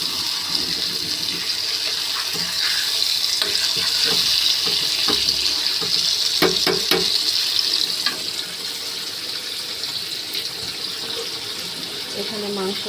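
Meat frying in a second batch in a pan, giving a strong, steady hiss with scattered scraping and knocking of a spatula that eases slightly toward the end.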